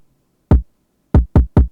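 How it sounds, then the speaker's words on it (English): An unprocessed kick drum sample in Ableton plays four times, once alone and then three quick hits in a row, each a short, deep, close thump with silence in between. "So the first one is the kick"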